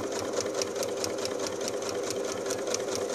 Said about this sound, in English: And then I'm just going to stitch around, following the